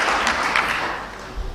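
A conference audience applauds in a steady wash of clapping that fades slightly toward the end, with no speech over it.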